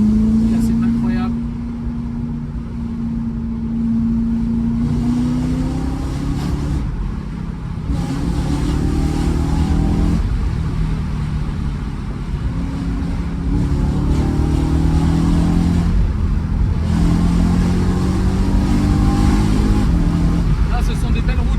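BMW M3 E92 engine revving hard while driving, around 6000 rpm, a loud continuous roar with rising and falling pitch sweeps as the car pulls through gears, close and unbroken.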